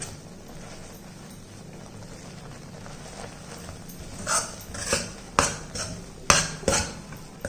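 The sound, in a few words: stirring roasted corn flour and wheat flour in a pan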